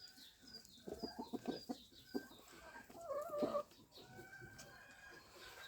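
Chickens and an old rooster cluck and murmur in a farmyard, with several bursts of short clucking close by and a quieter call near the end, with no talking.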